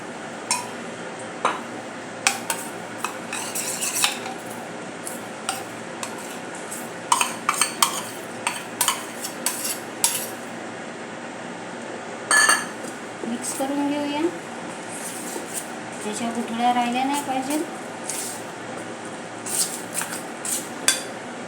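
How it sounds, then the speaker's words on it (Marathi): Slurry being stirred for a cheese burger recipe in a small bowl, with intermittent clinks and scrapes of a spoon against the bowl, close, while a person talks. "अशा प्रकारे याची स्लरी तयार करून घेऊया"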